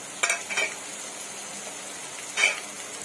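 Onions frying in a pan for matar masala, a quiet steady sizzle with three short bursts of stirring scrapes.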